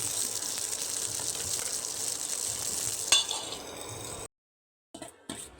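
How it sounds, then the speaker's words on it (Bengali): Semolina snacks fry in a covered pan with a steady hiss and sizzle for about four seconds, a sharp clink near the end, then near silence broken by a couple of brief bumps. "পরপর একই রকমভাবে সবগুলো ভেজে নেব"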